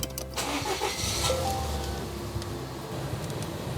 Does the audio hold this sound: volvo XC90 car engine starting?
yes